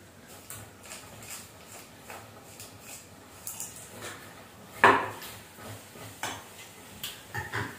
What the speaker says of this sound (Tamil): வெல்லம் போட்டுட்டு கொஞ்சம் நல்லா இதை கலந்து விட்டுக்கலாம்